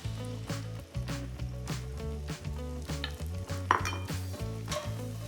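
Mushrooms sizzle in a copper pan with a stainless interior, a steady frying hiss with stirring clinks, under background music and no talk.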